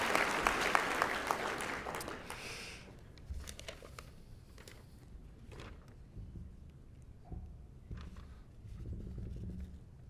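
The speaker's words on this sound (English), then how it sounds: "we can give a round of applause for a chairlift" Applause from an audience at a ski area operators' summit, a burst of clapping that swells at the start and then fades to scattered, quieter claps and room noise.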